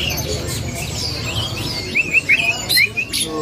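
An oriental magpie-robin (kacer) sings nearby in short, bright whistled phrases and chirps, rising over a steady noisy background hum.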